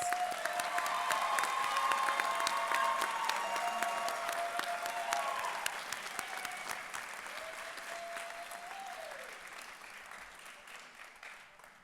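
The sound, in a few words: applause for graduates at commencement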